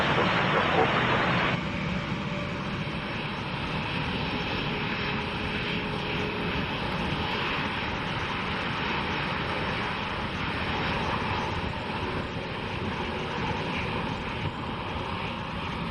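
Jet aircraft engines roar steadily on the runway during takeoff, a constant loud broadband rumble with a faint whine, heard alongside radio chatter.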